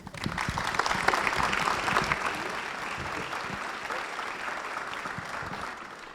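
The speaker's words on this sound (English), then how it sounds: "if we can give them a round of applause" Audience applause at a statewide celebration event, a full round of clapping from many people that swells early, then settles into a steady, moderately distant patter before tapering off.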